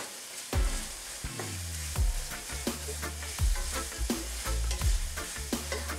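Ingredients for ackee and saltfish stirred in hot oil in a pan, a steady loud sizzle broken by repeated scraping strokes of the spoon every second or so, close up with no voices.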